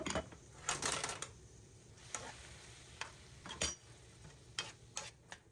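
Stirring cooked food in a pan after lemon juice is added, heard as scattered soft scrapes and clicks of a utensil against the pan with quiet gaps between, close and fairly faint, with no talk.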